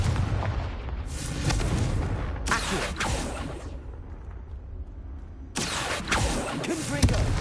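Blasts from a Confringo fire spell in Hogwarts Legacy, several heavy booming bursts in separate waves with rumbling tails between them, fairly loud and close.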